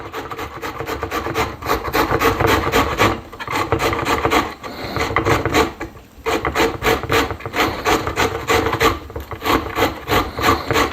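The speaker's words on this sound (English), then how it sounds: "We're going to grind the cauliflower in." Raw cauliflower is grated for a salad, giving loud, close rasping strokes in a quick, steady rhythm with a couple of brief pauses.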